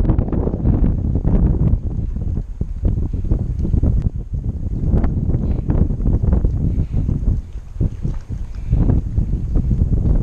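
Wind off Lake Erie buffets steadily and loudly across the microphone outdoors, a constant rumbling roar with gusty fluctuations throughout.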